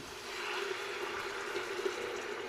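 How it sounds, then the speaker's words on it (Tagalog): Hot water poured into a cooking pot of chicken in a home kitchen, a steady, faint, continuous trickling and splashing stream with no talk over it. "So, lagyan na natin guys ng mainit na tubig."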